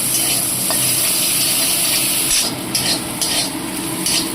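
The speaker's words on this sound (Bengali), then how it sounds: "একটু ভাজা ভাজা করে দিলাম।" Boiled, drained gugli snails fry in a wok over a low flame while a spatula steadily scrapes and stirs them, a close, continuous sizzle with no talking.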